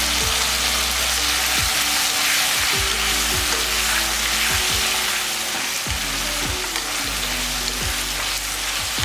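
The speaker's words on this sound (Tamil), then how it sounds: "இது ஒரு நிமிஷம் நல்லா வதங்கட்டும்." Eggplant and drumstick pieces sautéing with tomato in a pan give a steady, loud sizzle and crackle throughout, with occasional scrapes and clinks of stirring close by.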